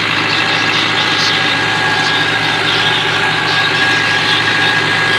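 A Fiat 640 tractor engine idles out in a field, a loud, steady low rumble that runs without a break throughout.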